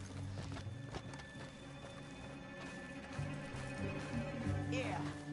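Horses clip-clopping in the video game Red Dead Redemption 2: rhythmic hoofbeats at a walking pace, fairly close, over steady background tones, with a brief whinny-like sweep near the end.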